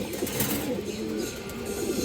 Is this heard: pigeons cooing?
yes